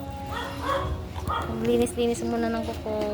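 A playful pet dog barks and yips close by in a few short bursts, mixed in with people talking casually at home.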